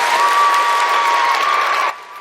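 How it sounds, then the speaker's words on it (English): Crowd clapping for a high-school marching band, a brief burst of applause and some cheering with a thin whistle-like tone running through it, then cutting off abruptly near the end. "Round of applause to them"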